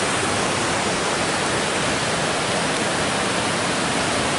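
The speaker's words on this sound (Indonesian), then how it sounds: "Di sini tuh sungai ya sahabat ya." A river near a village in Jampang Kulon, Sunda, flows with a steady broadband rush of water, constant and fairly close, with no voices over it.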